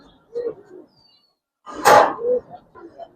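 Giribaz pigeons coo at close range, a few low throaty calls with a louder flapping burst in the middle, under a pigeon seller's brief talk.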